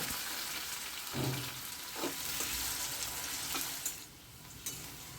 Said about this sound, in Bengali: এই আলুটা আমি তেলের মধ্যে দিয়ে হালকা লাল করে এটাকে আমি ভেজে নেব